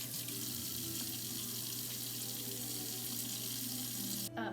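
Water from a faucet runs steadily into a kitchen sink during washing, a constant close splashing rush that cuts off abruptly at the end.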